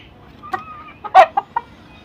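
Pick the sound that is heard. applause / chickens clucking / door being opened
chickens clucking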